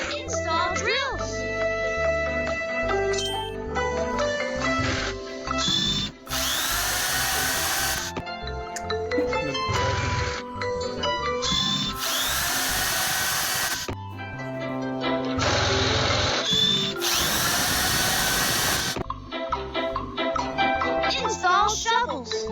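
Whirring power drill in a children's engineering-tool cartoon, sounding in several loud bursts between stretches of cartoon music and a child-like narrating voice.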